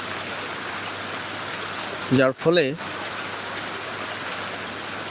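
Steady rain falls during the monsoon's end in northern Bangladesh, a constant even hiss throughout, with someone briefly speaking over it midway.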